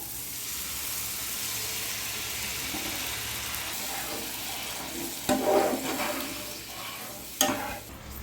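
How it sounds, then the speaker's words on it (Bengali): A steady loud sizzle of spice paste frying in a pan, broken by a sudden burst of hissing and bubbling as water is added, followed by another brief splash. "মশলা পেস্ট ছেড়ে গেছে, জল দিয়ে দেবো।"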